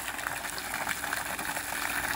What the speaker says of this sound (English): So you can take yourself an outdoor saltwater fountain shower.